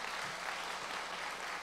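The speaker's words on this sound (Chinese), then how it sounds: "给公堂负责人掌声一下。" Steady applause from an audience honoring the leaders of local temples at a religious gathering, soft and distant, an even wash of clapping throughout with no voices on top.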